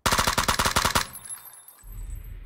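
In the shooter game PUBG, an automatic weapon fires a rapid burst of about a dozen loud, close shots in one second, followed by a fading echo and quiet rumble.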